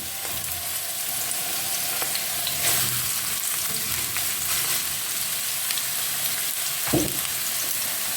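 Chopped onion sizzles and fries steadily in a preheated pan over medium heat, a continuous crackling hiss with an occasional knock of the spatula while it is stirred.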